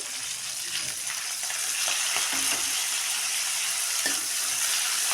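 Curry leaves, fenugreek and coriander frying in oil while being stirred, a steady close sizzle with scattered spoon scrapes and soft pops running throughout.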